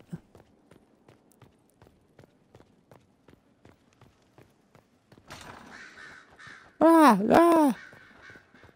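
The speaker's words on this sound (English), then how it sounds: "Birds." Bird calls from the game Dragon Age: Inquisition, with faint steady footstep-like ticks first, then a brief loud harsh cawing call near the end, with a short vocal sound.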